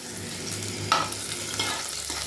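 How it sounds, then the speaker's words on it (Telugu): Garlic fries in a pan with a steady, close, low sizzle and one brief sharp clink near the middle, with no voices. "వెల్లుల్లి మంచిగా ఫ్రై కావాలి ఫ్రెండ్స్"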